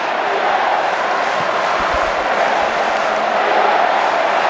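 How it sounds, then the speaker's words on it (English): A football stadium crowd roars steadily at a Wellington Phoenix vs Newcastle Jets match, a broad continuous wash of cheering heard at a distance throughout. "The crowd want more."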